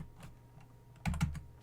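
Typing on a computer keyboard while configuring a network firewall: a few soft, close key clicks, then a quick cluster of louder keystrokes, with no talking.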